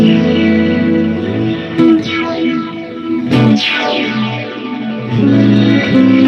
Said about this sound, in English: this is my simulated amplifier pedal. It's called the Radar.